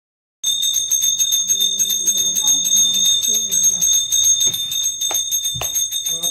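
A small hand bell rings steadily and brightly throughout a home prayer ritual, its high metallic tone sustained over faint background voices.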